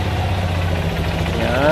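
A new fuel-injected motorcycle engine starts and settles into a steady idle, with a continuous low rumble that holds close and fairly loud, with a rising whine near the end.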